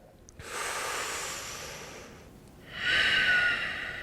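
Deep yoga breathing sounds as two long airy breaths close to the mic, a sustained inhale or exhale of about two seconds followed by a stronger, louder breath, with no talking.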